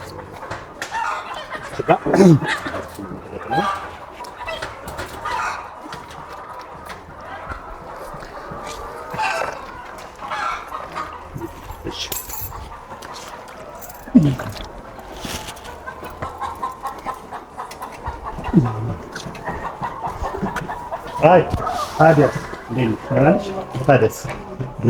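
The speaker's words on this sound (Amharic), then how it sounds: "እንቁላል ዶሮች 2200 አካባቢ ናቸው" Egg-laying hens cluck in a crowded poultry house on an Ethiopian farm of about 2,200 birds. The flock's chatter is dense and continuous, and people talk over it throughout.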